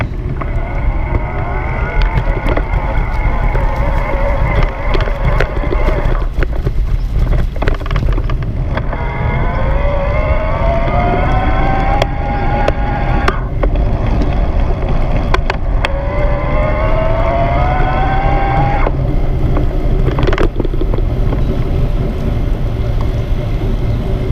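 A Kalkhoff Agattu B7 e-bike motor whines steadily while riding, its pitch rising and falling with changes in speed, under strong wind rush and road noise that stay loud throughout.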